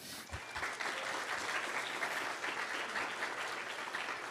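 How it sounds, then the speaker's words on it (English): Audience applause at the BSides PDX 2024 security conference, a dense, even wash of many hands clapping across a large room, steady for several seconds and moderately distant. "give them a round of applause, please"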